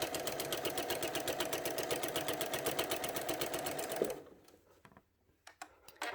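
Sewing machine with a walking foot quilting fabric, a fast steady mechanical stitching rattle for about four seconds that then stops, followed by a few faint clicks and taps.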